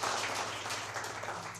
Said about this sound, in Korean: 우리 이분을 위해서 크게 박수 좀 보내주시기 바랍니다